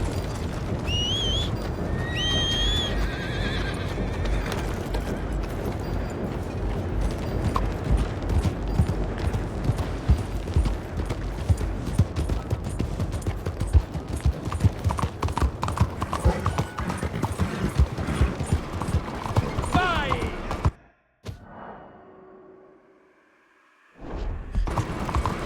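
A horse in Red Dead Redemption 2 gallops with rapid, driving hoofbeats that pound on loud and close for about twenty seconds, a few bird calls early on, before the sound cuts out abruptly and returns faintly.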